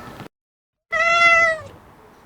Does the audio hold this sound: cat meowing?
yes